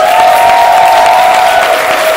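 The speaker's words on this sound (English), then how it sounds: "But let's give everybody a big round of applause." After a cocktail class at a gastrolounge bar, a crowd breaks into brief, loud applause, a dense wash of clapping with a faint steady tone running beneath it.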